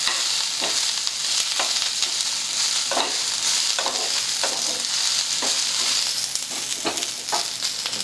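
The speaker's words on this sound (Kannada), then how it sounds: "ಇದನ್ನು ಸ್ವಲ್ಪ ಹುರ್ಕೊಂಡ್ರೆ ಟೇಸ್ಟ್ ಬರ್ತೈತೆ ಅಂತ ನಾನು ಹುರ್ಕೊಳಕತ್ತೀನಿ ನೋಡಿ" Semolina dry-roasting in a pan on a stove, with a steady dry rustle and a regular series of scraping stirs, roughly one every half second, close and moderately loud with no talking.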